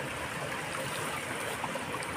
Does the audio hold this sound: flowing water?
yes